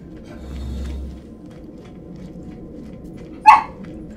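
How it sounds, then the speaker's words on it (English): A single sharp dog bark rings out indoors, short and loud against a quiet room hum, after a low rumble earlier. "No, don't bark in here."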